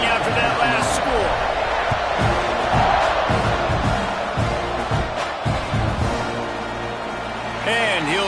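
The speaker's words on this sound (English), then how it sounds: "this crowd is buzzing after that last score" A college football stadium crowd at an Auburn game buzzes and roars after a two-point conversion, a dense, loud, continuous wash of voices with commentary running over it throughout.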